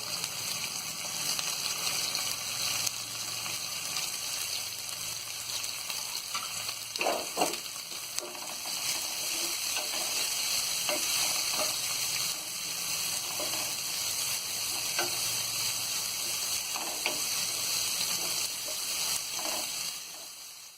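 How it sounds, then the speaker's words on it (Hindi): Onions frying in a pan, a continuous close sizzle and crackle with occasional stirring scrapes rising through it. "देखिए, प्याज अपनी तल गई है"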